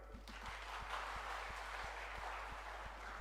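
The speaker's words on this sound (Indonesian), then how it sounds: "tepuk tangan dulu nih" Audience applause at an International Day of Persons with Disabilities event, a moderate, even patter of many hands clapping in a hall, somewhat distant, over a low electrical hum with faint regular clicks.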